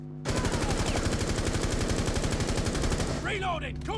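Automatic gunfire in the video game Rainbow Six Siege: a loud, close, rapid and steady burst of shots lasting about three seconds before cutting off.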